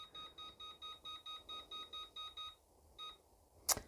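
Air fryer control panel beeping as temperature and time are set, a run of about ten short, evenly spaced electronic beeps followed by a couple more, then a brief sharp click, close and fairly quiet.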